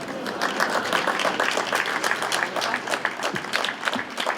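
Applause from a crowd at an outdoor celebration of a record-length 370-metre potica, a steady dense patter of many hands clapping, fairly near and sustained throughout.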